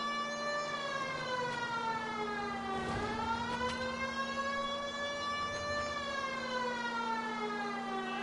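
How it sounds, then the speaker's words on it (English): A police car siren wailing in the L.A. Noire video game, a steady rising and falling tone sweeping continuously over a low engine hum, loud and close with no talk. "You hear sirens, you're supposed to fucking move, idiots."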